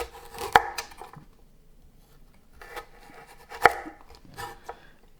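A knife on a board cuts carrots into cubes with two sharp, close chopping strikes a few seconds apart and softer scraping cuts in between, with no talking.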